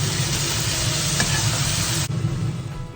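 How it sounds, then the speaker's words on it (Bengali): Chicken butter masala with leftover marinade spices sizzles loudly and steadily in a hot pan as it is stirred, with a brief dip in the frying noise partway through and no voices. "এটাকে আমি এবার একটু নেড়েচেড়ে নেব।"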